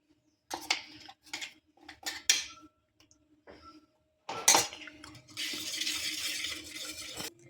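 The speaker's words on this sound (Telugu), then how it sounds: "వేసుకుని మళ్ళీ బీట్ చేసుకుందాం" Powdered sugar and cardamom get beaten into cake batter in a bowl, a few scraping clinks of a utensil against the bowl, then a steady stretch of whisking and beating, close and moderately loud.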